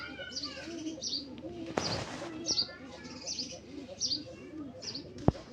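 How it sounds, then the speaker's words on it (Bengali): Grizzle racer pigeons coo in soft repeated rolling calls, with a few chirps and a brief burst of wing flapping midway, close by and under quiet human voices. "একটি কবুতর।"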